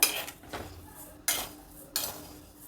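Two cups of rice being warmed in a pan for akki kadubu, with metal utensil clinks and scrapes against the cookware coming in three distinct bursts, close and fairly quiet.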